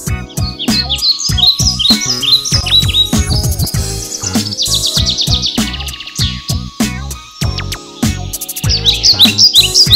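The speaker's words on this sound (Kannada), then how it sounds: "ಒಳಹೊಕ್ಕವರಿಗೆ ಕಾಣುವುದು ಖಗ ಪಕ್ಷಿಗಳ ಕಲರವ." Dense chirping and calling of birds fills a nature-themed festival at Garuda Mall in Bengaluru, with loud, overlapping, continuous tweets that run without a break.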